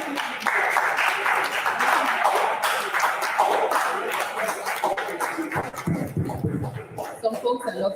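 Audience applause after an open-source summit talk, a steady crowd clapping that fades after about five seconds into scattered claps and voices.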